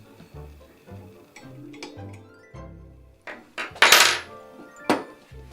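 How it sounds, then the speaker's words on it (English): Big silver screws being fitted into a MonMount LCD-194B dual monitor stand, with scattered metallic clinks and taps of varying loudness, a few sharper chinks near the end, close by and without talk. "Then you take the big fat silver screws."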